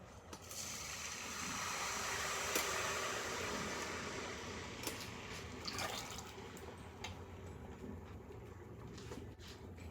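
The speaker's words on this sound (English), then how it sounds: "So now we're going to add in 2 cups each of half and half, which is half milk, half heavy cream," Half and half and whole milk poured into a pot for peppermint hot chocolate, a soft continuous liquid splash and trickle, faint and close, with no talking.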